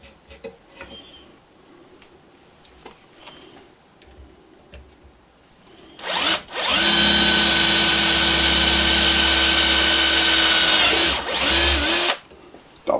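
A power drill driving through metal with a 5 mm bit while a spotlight mount is built: a loud, steady whine that starts abruptly, holds for about six seconds, then stops, after quieter handling noises.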